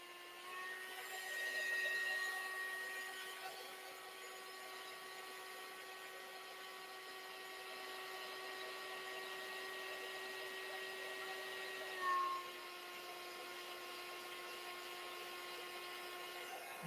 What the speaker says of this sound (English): I am going to take my heat gun because I'm impatient and I want it to dry fast.